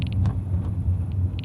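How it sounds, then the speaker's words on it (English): New, squeaky brakes on a Nissan GT-R squeal in short high chirps while the car slows under light braking on the road, over a low steady engine and road rumble inside the cabin. "But the brakes are very, very squeaky."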